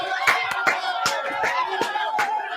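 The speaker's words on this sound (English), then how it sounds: "Everybody got to clap" A few people clapping in celebration after a Detroit Lions win over the Green Bay Packers, about seven distinct, uneven claps over a sustained voice humming or talking underneath.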